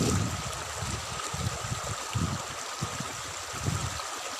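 Clear stream water rushing steadily at a scenic tourist spot in Pakistan, a continuous close gurgling flow with low churning surges and no voices.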